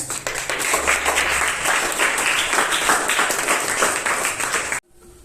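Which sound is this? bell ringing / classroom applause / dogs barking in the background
classroom applause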